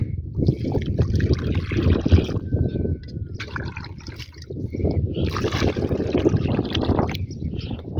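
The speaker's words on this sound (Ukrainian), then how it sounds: "Так само буду лити 2 літри води" Water, two litres of it, pours onto seedlings just planted lying down in soil, a steady close trickle and splash running almost continuously through the whole stretch.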